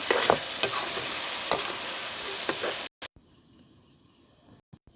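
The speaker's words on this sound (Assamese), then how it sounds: "আলু দিয়াৰ পিছত অলপ ভালকৈ লৰাই দিব লাগিব।" Potatoes frying in a pan sizzle loudly while a spatula scrapes and stirs in a few sharp strokes, then the sizzle drops away abruptly to a faint hiss near the end.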